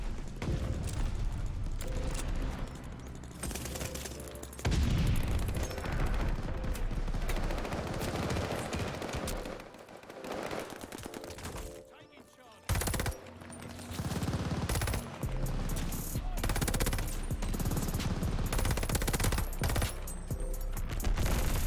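Cooper Carbine gunfire in a Call of Duty match: loud bursts of rapid automatic shots, with brief pauses and a short lull midway, set against a dense, busy game soundscape.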